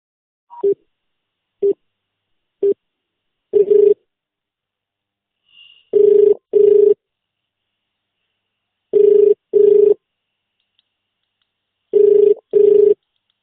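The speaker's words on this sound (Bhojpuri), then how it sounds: "तो फोन के घंटी बाज रहल बा," A telephone rings in repeated double bursts separated by pauses, loud and clear with nothing else around it.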